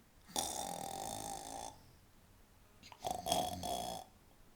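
Two long, rasping snores, each drawn-out breath loud and close, separated by a short quiet pause.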